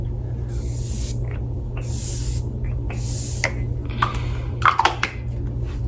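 Several short, breathy bursts of makeup setting spray hiss in quick succession over a steady low hum, followed by a few small clicks and rustles.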